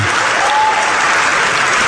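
An audience at a talk applauds warmly, a loud, dense, steady wash of clapping throughout.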